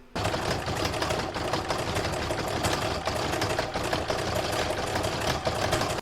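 A sewing machine top-stitches over a satin stitch on a single-fabric Christmas star, running continuously and loudly at close range for the whole stretch.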